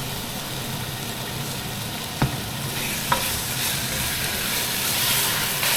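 Pepper and a large amount of tomato sauce cook in a pan, giving a steady broadband sizzle and hiss throughout, with a couple of brief sharp clicks partway through and no talk.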